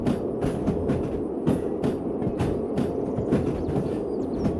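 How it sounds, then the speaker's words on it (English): A train in the Derail Valley simulator game brakes, giving a steady, loud rumble with rhythmic clacking and metallic pulses throughout, alone without speech. "We can pop this handle to make the train slow down really fast."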